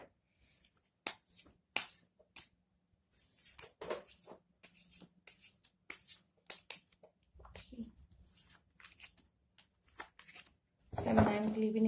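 Tarot cards being shuffled and drawn, with crisp snapping riffles and flicks coming in bursts between pauses, close and fairly quiet, with a voice speaking at times.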